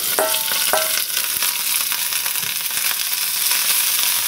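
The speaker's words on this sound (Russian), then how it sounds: "Ну, как зашкварчало красиво" Burdock stalks fry in a hot pan with a bright, steady sizzle and crackle that continues throughout, plus a few small clinks near the start and no talking.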